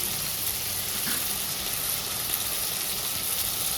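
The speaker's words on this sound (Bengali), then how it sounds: "এবার মশলাটা অনেকক্ষণই কষাবো, গ্যাসটা একটু সিম করে দিয়ে কষাবো" A spice mix with turmeric fries in oil for a cabbage dish, giving a continuous loud hissing sizzle with only faint stirring movements beneath it, steady throughout and without talk.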